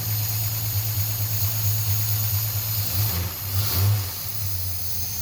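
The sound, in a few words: Slant Six engine revving with throttle body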